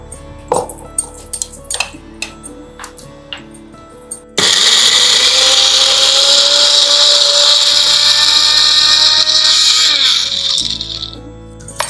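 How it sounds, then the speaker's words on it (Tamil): Mixer grinder grinding green turkey berry chutney, a loud steady whirring roar that starts abruptly after a few clattering kitchen knocks and runs continuously for about seven seconds before winding down. "இதை கொஞ்சம் ஆற வச்சுட்டு நம்ம மிக்சியில இட்டு அரைச்சிடலாம்"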